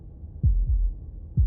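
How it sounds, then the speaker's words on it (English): Heartbeat in the video game Slay The Princess: low, muffled thumps with no other sound, two quick beats close together and then a third about a second later. "That was the sound of a heartbeat"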